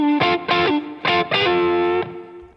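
Distorted electric guitar plays a sustained, bending lead line, dry without analog emulation processing, loud and alone in a few held phrases.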